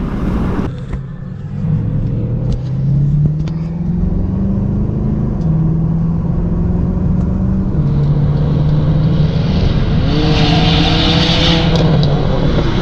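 A Mercedes C63 AMG engine accelerates loudly from inside the cabin, a deep steady roar climbing in pitch through gear changes with a rising whine near the end, no voices.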